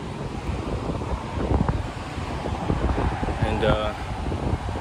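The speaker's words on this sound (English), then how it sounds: "it's a little breezy. Still hot, but it's a little windy" Steady breezy wind buffets the microphone at Galveston beach in Texas on a hot day, a continuous low rushing roar under someone speaking.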